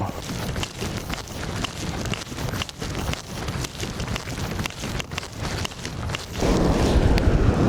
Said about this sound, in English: It's a bit windy over here